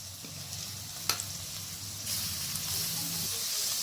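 Cubed mutton, about 250 grams, with lightly fried onion in a pan for a kabuli chana dish: steady close sizzling hiss throughout, with a sharp clink near the start and the sizzle growing louder partway.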